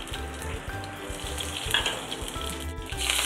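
Mustard seeds and curry leaves crackle and sizzle in hot oil in a pan for a Kerala-style bitter gourd theeyal, with a dense, continuous spitting and popping that sounds close and steady and has no voices over it.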